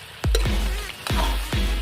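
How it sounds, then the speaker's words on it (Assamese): Meat frying in a pan in a home kitchen while a New Year meal is cooked, a steady sizzle broken by several sharp clanks and thumps of utensils against the pan. "মাংস পূৰা ভাজি আছে আমাৰ মাতাশ্ৰীয়ে।"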